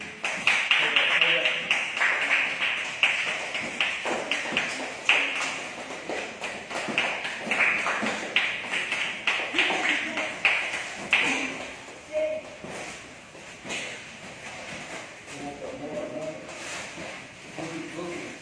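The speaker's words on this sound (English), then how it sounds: "Clap and encourage." Onlookers at a Kyokushin karate bout clap to encourage the fighters. Sharp, repeated claps come in bursts under shouted coaching voices.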